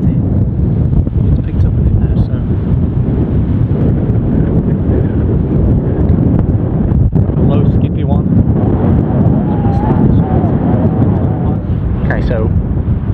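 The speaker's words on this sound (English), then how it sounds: "the wind will still affect it. It's picked up a bit now" Wind gusts across a golf course at Riddells Bay, buffeting the microphone in a continuous loud rumble, with faint voices audible beneath it.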